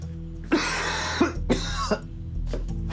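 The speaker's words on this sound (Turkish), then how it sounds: "fena öksürüyorsun sen" Four harsh coughs in a row, close and loud, spaced roughly half a second apart, with a low hum in the background.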